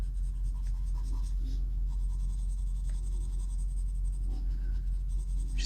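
Colored pencil burnishing over paper, a steady, continuous dry scratching that stays close and even throughout, with no talking.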